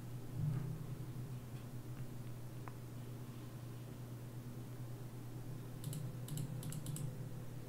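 Quiet typing on a computer keyboard, a few soft scattered key taps and then a quick flurry of clicks near the end, over a steady low hum.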